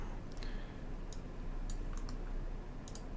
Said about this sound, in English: I'm just clicking copy and paste here.